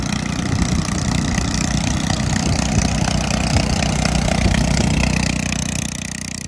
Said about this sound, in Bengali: কোনো কারণে আকাশে ইঞ্জিন বিকল হয়ে পড়লেও মাটিতে বিমানটি পড়ে যাবে না সেই ব্যবস্থাও করেছে জুলহাস